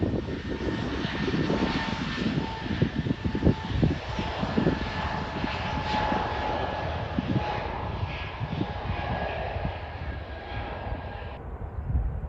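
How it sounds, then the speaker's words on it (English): A plane takes off at Leipzig airport with a steady, loud engine roar from a distance, a droning tone running through it, and a gradual fade near the end. "So we will hear now the takeoff."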